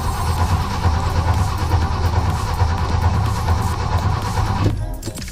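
An old Chevy C10 pickup engine cranks continuously in a steady, rough churning drone without catching, loud and close, cutting off abruptly near the end.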